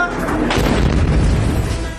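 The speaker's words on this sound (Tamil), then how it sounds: "தெற்கு இஸ்ரேல் மீது ஈரான் ஏவுகணை தாக்குதலால் காதை பிளக்கும் சத்தத்துடன் மாபெரும் வெடிச்சத்தம் கேட்டது" A loud, booming blast from an Iranian missile strike on southern Israel, a dense roar that fills the short clip with heavy low rumble and no gaps.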